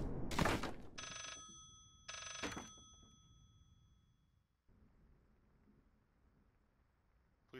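Telephone ringing in the horror video game Layers of Fear: two loud, bright electronic rings close together, each followed by a long fading tail, then a quiet hum.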